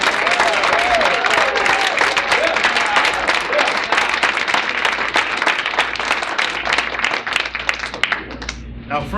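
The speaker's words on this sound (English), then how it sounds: "Let's give a round of applause to the greatest fighting force on the face of the planet, the American soldier" Loud, dense applause from a crowd at a conservative political gathering, sustained steadily and close throughout with scattered cheers mixed in.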